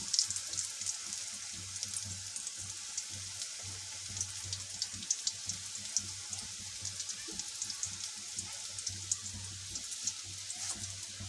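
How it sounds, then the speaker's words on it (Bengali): Raw jackfruit kofta balls frying in mustard oil give a steady close sizzle with fine crackles and small pops, continuous and even, with no talk over it. "একে একে সব কোপ্তাগুলা ভেজে নেব।"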